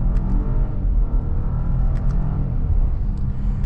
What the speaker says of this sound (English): So setting off now in the Audi